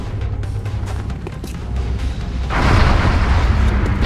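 A heavy rumbling explosion in the alien strategy game XCOM: Enemy Within bursts out loud and sustained after a stretch of muffled battle noise, with no talk over it.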